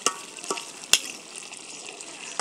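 Beef cooking in a pot is stirred, a frying sizzle punctuated by several sharp spoon scrapes and clicks against the pot.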